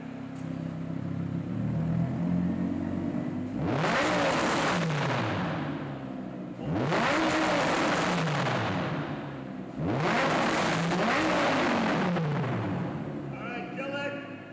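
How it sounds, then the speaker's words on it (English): A Lamborghini Huracán engine with a race exhaust, valves open, revs hard three times, each burst roaring up and crackling before dropping back to a rumbling idle, loud and close. "now it's the Lamborghini race exhaust, which sounds absolutely amazing"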